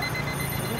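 An alarm clock brought by activists to a street rally in Paris rings steadily and loudly for under a second over a dense crowd hubbub.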